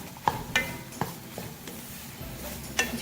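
A spoon scrapes and clinks against a pan while stirring a spiced bread roll filling, with several sharp taps over a low sizzle and no talking.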